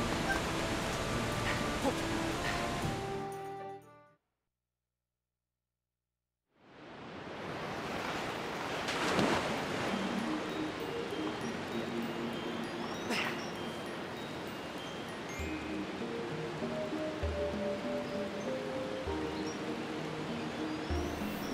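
Watery ambience from the Lake Floria area in The Legend of Zelda: Skyward Sword, a steady broad wash like surf and wind that cuts out briefly to silence, then returns full and continuous with soft low tones pulsing beneath.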